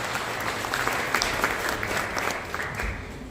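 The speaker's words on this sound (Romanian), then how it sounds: "Sub aplauze, bineînțeles!" Audience applause at a live solar energy presentation, steady, moderately close clapping from a small crowd lasting a few seconds.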